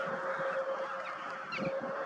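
Crows cawing in a flock against the night sky, heard as a few harsh, honking calls that stand out clearly over a steady background hiss.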